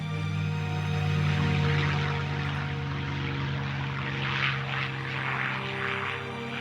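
Engines of WWII U.S. carrier propeller planes, Grumman Hellcat fighters and Corsair fighter bombers, drone steadily and loudly in a continuous roaring hum with no voices.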